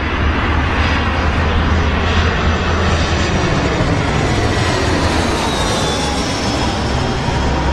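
A British Airways Boeing 767 on short final at Heathrow gives off a loud, steady jet engine roar and rumble that stays constant and close.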